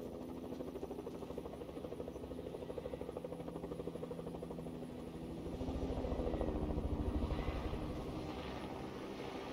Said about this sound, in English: Where's that chopper, man?